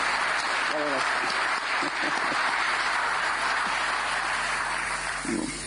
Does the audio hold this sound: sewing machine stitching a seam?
no